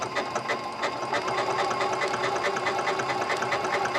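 A Janome Continental M7 sewing machine stitching a buttonhole runs at a steady, fast, even whirring clatter, close and continuous throughout.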